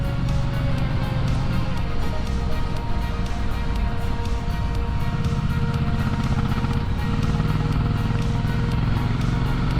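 Triumph Bonneville T100 motorcycle being ridden through a burnt forest near Malibu, its engine droning loud and steady throughout with continuous wind rush and a low rumbling exhaust.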